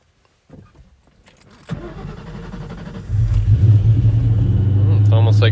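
A 2003–2004 Terminator Cobra engine cranks and catches after a hesitant start, settling into a loud, steady deep idle rumble close by, with a voice heard briefly early on.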